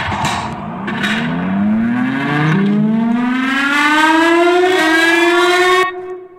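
Siren Head siren sound effect from the video game COTC 2, a loud wailing siren that rises in pitch and holds a long harmonic howl, playing alone until it stops near the end.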